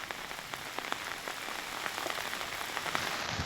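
Heavy monsoon rain in Kodagu near Bhagamandala, pouring steadily as a dense, even hiss with scattered close drop impacts and no voices.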